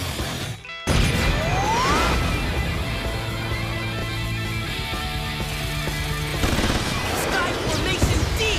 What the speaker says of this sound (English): Launch mega missiles.